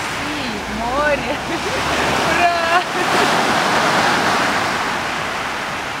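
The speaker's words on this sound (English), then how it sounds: "It is very hot today and we are near the sea." Sea waves near the shore on a hot day make a steady broad wash of surf, loud and continuous, while a person talks over it.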